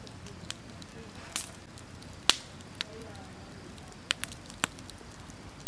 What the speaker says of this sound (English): Is it just me or does that crackling sound just sound so satisfying?